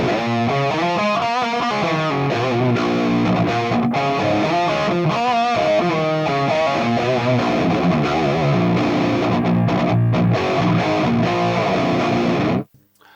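Heavy distorted electric guitar riffing through a mixed 6160 cabinet impulse response on an Axe-Fx III, with a roomy, lower tone, loud and continuous before cutting off abruptly near the end.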